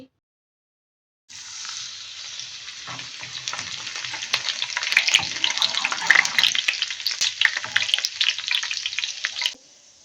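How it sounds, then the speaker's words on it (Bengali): Chopped garlic drops into half a cup of hot soybean oil for momo chili oil and bursts into a sudden loud, crackling sizzle that goes on steadily and then cuts off abruptly. "তেলটা গরম হয়ে গেছে, এখন 1 টেবিল চামচ দিয়ে দিচ্ছি রসুন কুচি"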